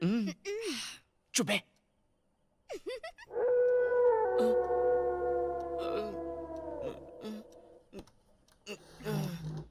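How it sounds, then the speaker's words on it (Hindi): A dog howls at night in one long, wavering, siren-like wail lasting several seconds, with short sharp barks and people talking before and after. "भैया कुत्ता भौंक रहा है।"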